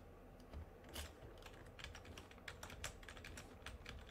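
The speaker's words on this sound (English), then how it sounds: "I don't know if you guys are hearing my keyboard as much as you did before." Quiet computer keyboard typing, a rapid irregular patter of key clicks over a low background hum, with no talking.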